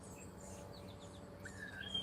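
Birds chirp outdoors near a back porch on a quiet morning: a few faint, short high tweets over soft background hiss, with no one talking.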